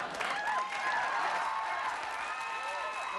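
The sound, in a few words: studio audience applauding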